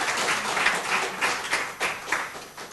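A church congregation applauding the Lord, steady clapping from many hands at moderate distance, continuous with a few louder swells, no voices over it.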